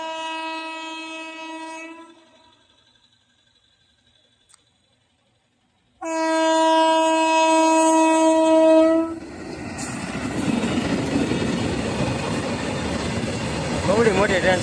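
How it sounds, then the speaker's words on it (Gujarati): A loud train horn sounds in long blasts, then a heavy, continuous rumble and clatter as a long train rolls past close by. "ભરેલી ટ્રેન છે માલવાહક ટ્રેન છે તો આવે છે"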